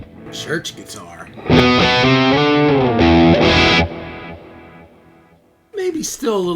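An electric guitar played through a Boss Katana amp with a bright church-style tone rings out in sustained chords, loud and close, with a person speaking briefly before and after.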